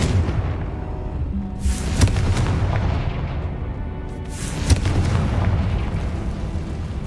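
Two booming Confringo spell explosions in the Hogwarts Legacy video game, roughly three seconds apart, each a loud burst with a rumbling tail over a continuous low game background.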